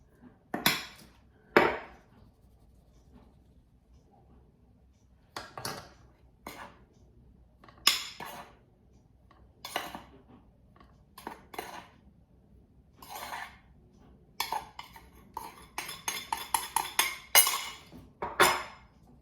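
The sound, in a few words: stirring flour into gluten-free Easter cookie mixture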